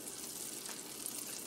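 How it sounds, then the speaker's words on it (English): Butter melting and sizzling in a stainless steel pan while making an omelet, a steady soft crackle and hiss throughout, fairly faint and close, with no talking. "Now, butter is sizzling right away. It's melting."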